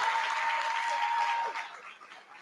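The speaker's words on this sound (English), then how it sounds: "Can y'all give her a round of applause?" A crowd at a county State of the County address applauds loudly with dense clapping that fades out over a couple of seconds.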